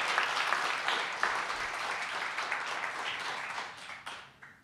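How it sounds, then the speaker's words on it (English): Audience applause at an evening storytelling performance, a burst of clapping from a seated crowd that gradually thins and fades toward the end. "Give her a round of applause."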